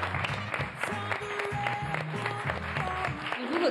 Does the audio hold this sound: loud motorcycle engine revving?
no